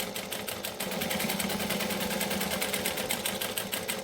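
A sewing machine stitching across the top of fabric to hide strap ends while making a large bag, running steadily with a fast, even mechanical chatter close up after a brief start.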